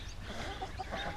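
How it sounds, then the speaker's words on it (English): Backyard chickens cluck softly while digging holes in their run, a faint, scattered murmur of short calls close by with no talking. "All right, we're sneaking up on the chickens."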